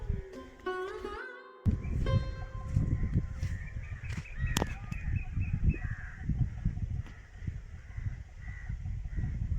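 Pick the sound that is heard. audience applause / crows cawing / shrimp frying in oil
crows cawing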